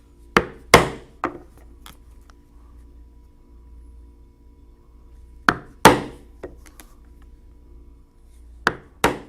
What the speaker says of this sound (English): then I will punch some 1/8 inch holes where I will attach some crystal rivets